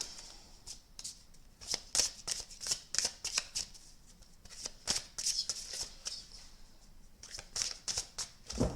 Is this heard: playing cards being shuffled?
yes